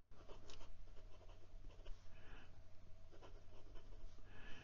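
A HongDian 6013 fountain pen with a black Fude nib scratches across paper in a continuous close, faint scraping texture with small rhythmic strokes, under a steady low background hum.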